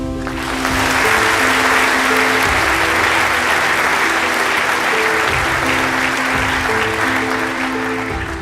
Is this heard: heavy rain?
no